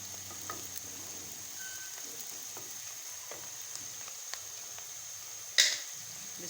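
Onions sizzle steadily in a hot pan as a masala okra dish is being cooked, a soft continuous hiss with a single sharp click partway through and no voices.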